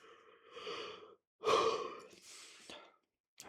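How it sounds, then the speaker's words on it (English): Repeated yawning from one person: a long breathy drawn-out yawn, a brief pause, then a second louder yawn trailing into airy exhalations, close and fairly quiet, with no other sound. "I can't stop yawning."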